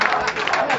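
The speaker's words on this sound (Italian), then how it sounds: "viva Giancarlo Giannini" A short burst of dense audience applause for actor Giancarlo Giannini at an aperitivo gathering in Messina, loud and close, filling the whole moment.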